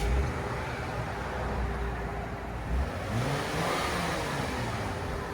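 A 2014 Lexus IS 250 with its 2.5L V6 on the stock exhaust idles and revs, a steady, fairly loud engine drone with mild rises in pitch, heard close outdoors.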